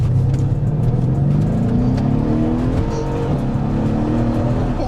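A 700 BHP Mercedes E63 AMG accelerates hard with a loud, deep engine roar, its pitch climbing steadily under full throttle, heard from inside or close to the car.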